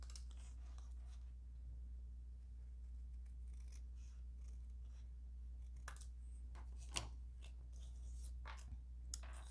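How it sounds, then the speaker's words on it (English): Scissors cut card paper along straight lines for a fun fold card, giving quiet, intermittent crisp snips close by over a faint steady low hum. "it's pretty easy to cut out since it's just straight lines."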